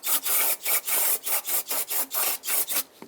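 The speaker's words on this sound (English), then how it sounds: "we're going to use a little brake clean, a rag, and lightly with a razor blade." A razor blade and rag scrape the intake gasket surface on a 2007-2015 Mazda CX-9 engine, about a dozen rhythmic rasping strokes in close succession, loud and near, with no talking.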